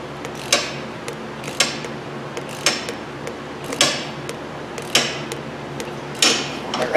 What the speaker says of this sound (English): we're just going to press it in until it hits that step